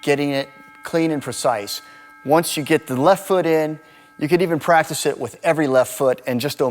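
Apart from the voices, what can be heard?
No distinct noise like a dog, phone or traffic.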